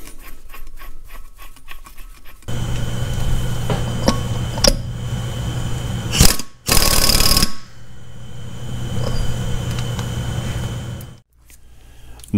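A nut being tightened on a Caterpillar D2 belt pulley assembly, heard as loud close grinding and ratcheting scrapes in sustained stretches, with a sharp harsh burst near the middle and a few metallic knocks.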